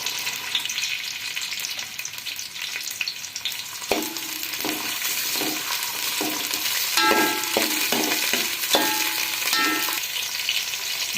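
Sliced onions hit hot ghee in a pot for beef keema pulao and sizzle loudly and steadily, with a spoon stirring and scraping through the pan at intervals, close up and with no talking.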